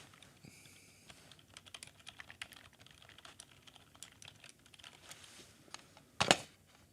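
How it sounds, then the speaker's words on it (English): Fingers type on an old-school computer keyboard, producing rapid, irregular clacking keystrokes at close range and low volume, with a louder clattering burst near the end. "Look at my old school keyboard."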